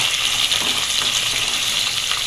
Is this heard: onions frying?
yes